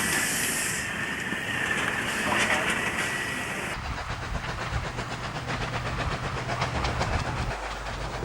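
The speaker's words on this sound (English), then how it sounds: "a well-turned-out 5910 prepares to leave Goulburn's North Yard with an unusually heavy mixed, including a set of passenger carriages." Steam locomotive 5910 pulls out of Goulburn's North Yard in New South Wales with a heavy mixed train that includes passenger carriages: loud steam hiss gives way to a rapid, rhythmic chuffing exhaust, with a narrating voice over it.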